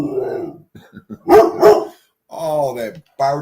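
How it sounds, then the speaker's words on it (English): A dog lets out several loud, close barks in quick bursts, interspersed with short whiny vocal sounds and brief silences. "Oh, that barking. Aren't you tired of barking?"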